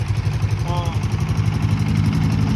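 A Honda Rancher ATV engine idles steadily nearby with a low, throbbing rumble that continues unchanged throughout.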